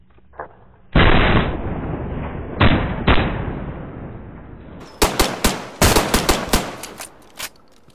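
Gunfire from another player in the survival video game DayZ: a long roaring burst, a second burst, then a string of sharp, loud rapid shots cracking in quick succession near the listener.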